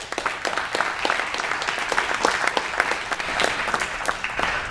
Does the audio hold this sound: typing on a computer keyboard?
no